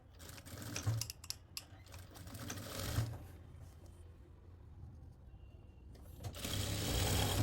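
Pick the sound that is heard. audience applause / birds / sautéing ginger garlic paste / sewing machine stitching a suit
sewing machine stitching a suit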